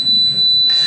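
An alarm system keypad gives off a steady, loud high-pitched beep tone that holds through the whole brief moment while the system is being armed.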